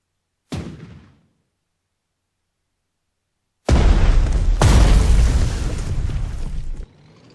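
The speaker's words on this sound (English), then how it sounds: "Here is our artillery shooting on the anti-aircraft unit." Artillery firing in the PC strategy game Panzer Strategy, set in the Battle of France: a single sharp boom that decays, then after a pause a loud, sustained roar of explosions lasting about three seconds.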